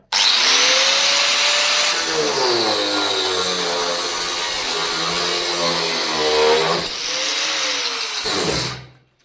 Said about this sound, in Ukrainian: Це сама потужна штука, 125-та болгарка, яку я тримав.